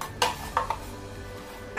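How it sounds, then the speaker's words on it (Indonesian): A spoon knocks and scrapes against a bowl of batter a few times while stirring, short clinks separated by quiet stretches, close by. "Kita aduk dulu sebentar."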